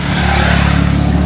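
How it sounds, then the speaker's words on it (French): A motorcycle passing close by on a road, its engine throbbing in a steady low rumble that stays loud and continuous throughout. "Ah, il y a une moto qui passe."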